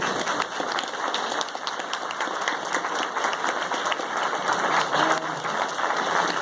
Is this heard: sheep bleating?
no